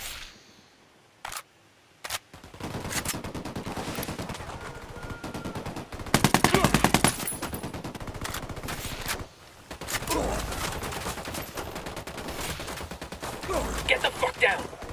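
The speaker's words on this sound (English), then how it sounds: "Opening fire." Loud automatic gunfire in a Ghost Recon Wildlands firefight, with long rattling bursts and single cracks that nearly fill the scene and pause only briefly between volleys.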